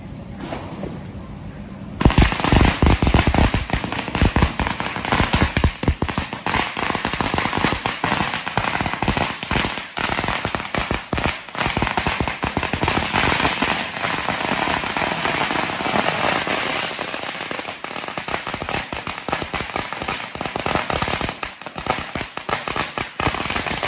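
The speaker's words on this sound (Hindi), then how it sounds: "तर गाईज आता मारुती स्काय शॉट फोडतोय." Maruti sky shot fireworks set off for Diwali fire in a long rapid barrage of loud crackling bangs, dense and continuous for over twenty seconds after a short quieter lead-in.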